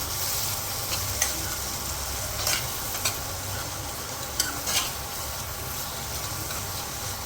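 A tadka of turmeric and black pepper for a turnip curry sizzles steadily in a pan, with occasional scrapes of stirring over a constant close frying hiss and no voices.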